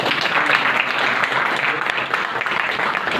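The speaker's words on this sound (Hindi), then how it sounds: "तालियों की गड़गड़ाहट।" A crowd at a school event for a women's self-defense and martial-arts training camp breaks into thunderous applause, dense steady clapping filling the room.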